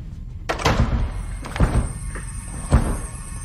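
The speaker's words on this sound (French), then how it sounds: "t'as cassé la porte" A door is broken in during a scene from the horror film Candyman, heard as several heavy wooden thuds and knocks spaced a second or so apart against a quiet background.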